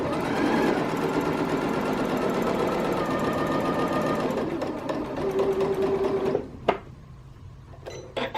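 A sewing machine runs a steady straight stitch along the elastic waistband casing of a skirt, whirring evenly for about six seconds. It stops, and then a few sharp clicks and short bursts of stitching follow close up.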